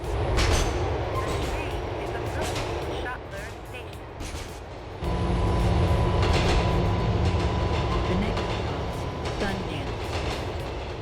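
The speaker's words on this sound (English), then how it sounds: "the audio was changed to closely resemble the real-life R38 train sounds" Modded subway train in GTA 4, its sound reworked after the real-life R38 car: a loud, continuous rumble with steady rail clatter, a brief dip in level midway, then a return to full running noise.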